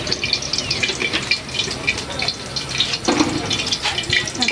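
Soybean oil poured into a hot kadai before frying fish, giving a steady, close, hissing liquid rush with faint crackles throughout and no voices.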